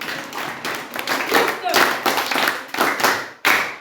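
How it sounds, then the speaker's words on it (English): Students and audience clap their hands in bursts after a pottery lesson about cooking pots, a loud, uneven run of claps that surges and drops with short gaps. "Clap for your hand"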